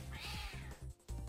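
A cartoonish cat in the video game Noel The Mortal Fate meows in short repeated bursts, loud and close, with no talking over it.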